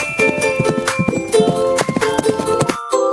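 A horse moving along with steady clip-clop hoof beats, loud and close, with a brief gap near the end before the hooves resume.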